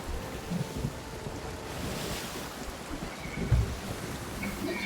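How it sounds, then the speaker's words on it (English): Stormy sea waves surge and wash continuously in the Sea of Thieves game, a broad roaring surf with wind noise throughout and a heavier low thump of water near the middle. "Some mighty waves we're hitting."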